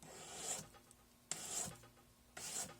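A worn 220-grit emery stick sands around a metal ring during sizing, three long rasping strokes in steady rhythm, close and fairly quiet, with no talking.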